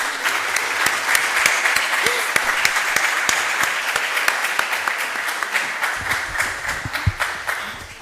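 An audience at an accounting lecture on accounting policies applauds, a steady crowd clapping with some sharp individual claps standing out near the listener, fading slightly toward the end.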